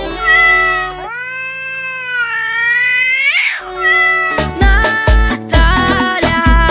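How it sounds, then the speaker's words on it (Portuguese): A cat gives a long, drawn-out meow that rises and bends before trailing off, followed by a rhythmic run of louder, clipped sounds. "Gato."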